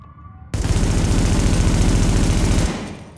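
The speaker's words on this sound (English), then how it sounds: "A good example of this is the Liberator Assault Rifle." Liberator Assault Rifle from The Division fires a long, unbroken full-auto burst, loud and close, lasting about two seconds before abruptly stopping with a short tail.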